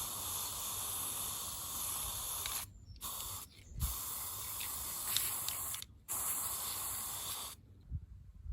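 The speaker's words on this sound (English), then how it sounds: "So I'm going to give it a clean and use Plasticoat spray, matte grey to cover it." Plasticoat matte grey aerosol spray paint hisses from a can onto a motorhome window frame outdoors in several long, steady bursts separated by brief pauses.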